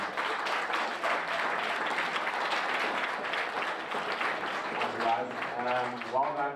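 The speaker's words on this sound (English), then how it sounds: "Please give him a round of applause." Applause from a university audience for a winner walking up rolls on for several seconds, a broad clatter of clapping, while voices start talking near the end.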